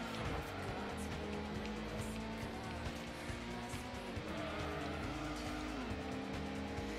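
A racing car engine in Gran Turismo drones with shifting pitch as tires squeal and skid, the revs rising and dropping while the car spins out.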